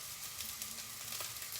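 Leftover rice is broken up in a frying pan, giving a quiet, even sizzle with faint crackles and light scraping, fairly soft and with no one talking.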